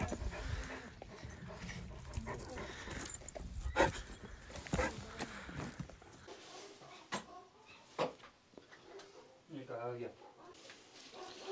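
Dogs and puppies in a yard barking, yipping and whimpering in short irregular bursts, moderately close, with people talking over and between the calls.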